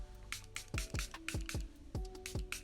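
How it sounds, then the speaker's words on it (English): Short, quick spritzes of a makeup setting spray bottle pump out in a rapid series of about eight hissy puffs, close and soft. "So I'm gonna spray this all over and avoiding my eyes."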